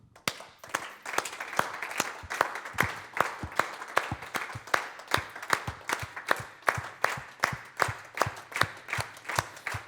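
An audience claps continuously as a form of protest, a steady stream of sharp, evenly spaced claps blending into sustained applause, fairly close and moderately loud, with no talking.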